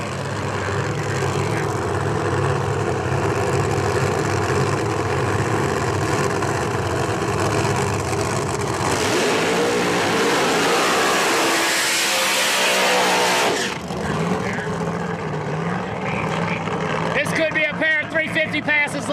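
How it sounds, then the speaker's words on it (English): A Pontiac Firebird drag race car at a dragway, its engine roaring steadily as it comes by in the near lane, loud throughout with a strong swell midway and a fading rattle at the end, under constant announcer talk. "the man, the myth, the legend, Derek Ward, and his beautiful Pontiac Firebird coming by"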